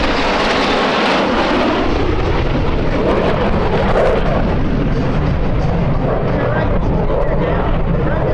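USAF Thunderbirds F-16 jets, including a two-seat F-16D, roar overhead in close formation at the 2025 APOHR air show, a loud continuous broadband jet rumble filling the whole stretch with crowd noise beneath.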